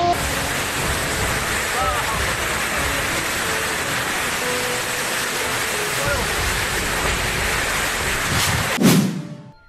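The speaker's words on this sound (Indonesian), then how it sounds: "Hujan es Singkariang." Hail falling in Singkariang during a tornado storm in Indonesia, a loud, steady hiss of pelting ice with a sharp louder burst near the end before it cuts off.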